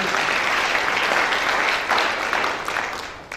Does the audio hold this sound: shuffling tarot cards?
no